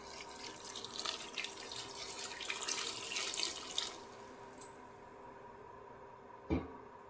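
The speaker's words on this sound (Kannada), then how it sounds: "ಬೇಕಷ್ಟು ನೀರು ಹಾಕ್ಕೊತೀನಿ" Water runs steadily into a pot of lentils for a few seconds, then stops, followed by a faint drip and a brief clunk.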